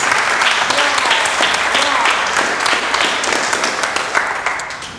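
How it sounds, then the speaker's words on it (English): Steady, loud applause from an audience, dense clapping filling the whole stretch and tapering slightly toward the end. "Another round of applause,"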